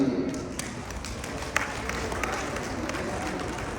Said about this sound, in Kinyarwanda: namwe mwiha amashyi ndabashimiye.